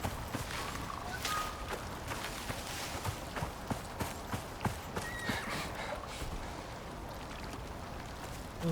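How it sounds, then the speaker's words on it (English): Horse hooves clip-clop in the survival video game Icarus, a run of quick, regular thuds moving through a rushing background of wind and game ambience, moderately close, with no talk. "What was that horse?"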